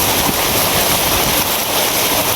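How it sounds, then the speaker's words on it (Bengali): Heavy rain pours down over fields, a loud, dense and steady wash of noise that fills the whole clip with no talking. "প্রচুর বৃষ্টি হইতেছে"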